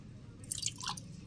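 A few water drops poured into a small LED-lighting gadget cup, giving brief soft drips and a light splash, faint and close with no talk.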